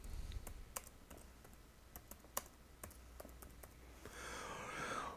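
Computer keyboard typing while adding text in Affinity Designer: scattered quiet key clicks at an irregular pace, close and soft, ending in a brief breathy rustle.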